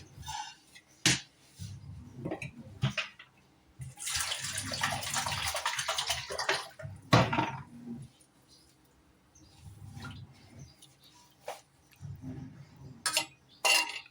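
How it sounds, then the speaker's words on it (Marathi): Water is poured into a pot of dal khichdi for a couple of seconds amid scattered clinks and metallic taps, with a second brief pour later. "पाणी ऍड करणार आहोत."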